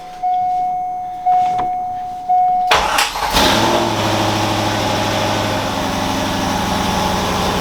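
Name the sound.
Corvette engine starting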